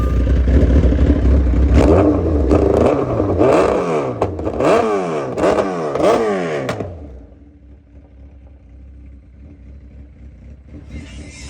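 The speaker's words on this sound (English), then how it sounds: "Now we're gonna try and get the bike started." 2006 Suzuki Hayabusa motorcycle engine cranking and catching, with several loud revs rising and falling close by before it settles into a quieter rough idle.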